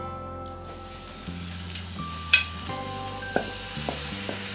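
Vegetable fried rice is stirred in a hot pan, giving a soft steady sizzle with occasional scraping and clinking of the utensil against the pan, close and fairly quiet with no talk.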